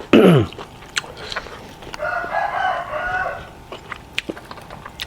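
A village rooster gives one loud, close crow at the start, followed by quieter clucking and scattered bird chirps in an otherwise calm rural setting with no talking.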